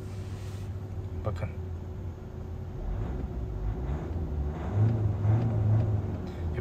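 A 2021 Audi A4 40 TDI with its 2.0-litre 204 hp diesel engine starts and runs as a low, close rumble that swells in steps, while someone talks over it.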